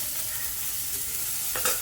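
Onions frying in a pan and being stirred, giving a steady close sizzle with scraping stir strokes that grow louder near the end; no voices.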